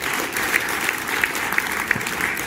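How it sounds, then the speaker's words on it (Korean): A crowd at a public talk claps to welcome a journalist to the stage, a steady, fairly loud wash of applause with scattered sharper claps and no speech. "박수로 환영해 주십시오."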